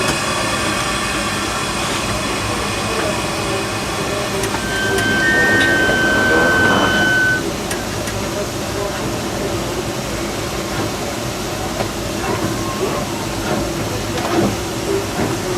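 Disneyland Railroad steam locomotive No. 4, Ernest S. Marsh, heard from inside the cab: a constant loud hiss and mechanical rumble, with a brief high whistle-like tone partway through.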